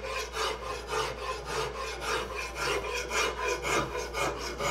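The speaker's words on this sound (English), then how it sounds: "This is a Nicholson number 50. It's got a nice random cut, and I'm lightly doing this, and I'm dragging kind of diagonally across the piece" A Nicholson No. 50 random-cut rasp is dragged lightly and diagonally across a wooden furniture piece to soften its facets, giving a close, steady rhythmic rasping of about two strokes per second, with no talk.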